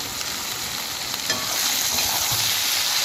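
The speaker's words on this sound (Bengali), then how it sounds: "চিংড়িটাকে ভালো করে ভেজে নিতে হবে।" Prawns fry and get stirred in a pan, producing a dense, loud, continuous sizzle with scraping stirs throughout and no voices.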